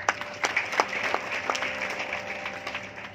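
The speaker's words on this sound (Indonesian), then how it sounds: "Yang setuju berikan tepuk tangan." A church congregation applauds during a sermon: a steady wash of clapping with sharp individual claps standing out near the front, over a faint constant hum.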